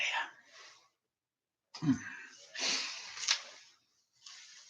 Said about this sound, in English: sorry for the allergic cough there